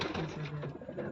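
Fancy pigeons, including Lahori birds, coo softly in a loft, low murmuring calls overlapping steadily at close range with no talk.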